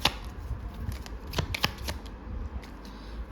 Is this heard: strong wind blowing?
no